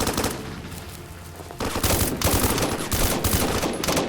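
Sustained automatic gunfire rattles in the Roblox game Blackhawk Rescue Mission, dense and close. The bursts grow louder and heavier partway through and continue without pause.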